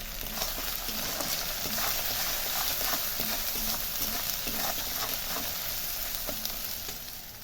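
Spices with salt and turmeric fry in a pan for a banana flower paste, giving a continuous close sizzle with occasional stirring scrapes and no voices.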